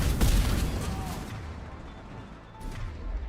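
Gunfire in the video game Mass Effect 3, heard as a sharp loud blast at the start that decays into a rumbling tail, followed by a softer shot near the end.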